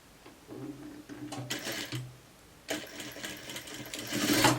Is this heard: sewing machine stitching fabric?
yes